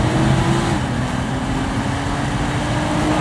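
A Nissan GT-R R35 T-Spec on the move, its engine a steady close drone with a faint rising tone, over constant road and tyre noise.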